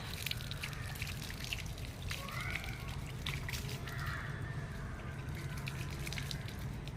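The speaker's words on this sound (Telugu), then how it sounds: "చూడండి ఫ్రెండ్స్ నేనైతే వాటర్ వేస్తున్నాను ఇప్పుడు" Water trickles and splashes softly at close range as a newly planted curry leaf plant in a home garden is watered, a quiet continuous pour with faint drips and no talking.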